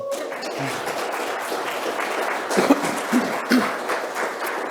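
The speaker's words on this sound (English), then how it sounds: "You can give an applause" An audience at a Pan-African symposium gives moderate applause for a panelist, a soft continuous patter with a few louder claps standing out near the end.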